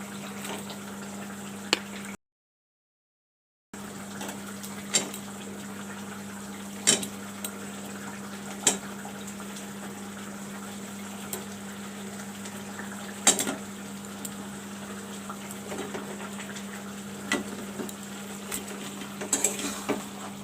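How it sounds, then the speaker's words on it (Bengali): Chicken pieces fried with salt, turmeric and pepper are stirred into a masala in a pan for a red chicken curry, a low steady frying hiss with occasional clinks of a utensil against the pan, a short silent gap early on. "তারপরে মাংসটাকে আগে ভালো করে কষিয়ে নেব"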